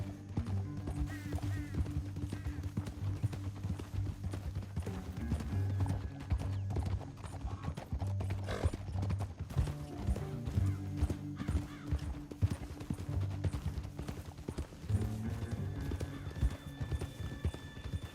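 Horses galloping in Red Dead Redemption 2, rapid rhythmic hoofbeats sustained throughout with occasional whinnies, over a low droning musical score.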